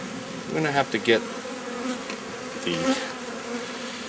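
Honey bees buzz in a steady, fairly soft drone at an open hive during a spring inspection, with brief bits of a voice rising over the hum.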